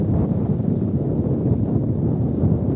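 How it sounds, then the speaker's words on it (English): Wind rumbles steadily against the microphone, a dense low roar with slight gusting, no voices heard. "It's pretty windy up here"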